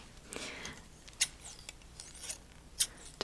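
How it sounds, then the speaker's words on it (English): Scissors snip a few times up close, crisp metallic clicks and light scraping spaced irregularly against a quiet background. "Different scissors can make different sounds."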